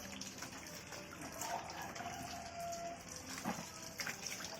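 Faint splashing and sloshing of water as clothes are washed and scrubbed by hand, with soft irregular swishes and drips at low level, close by.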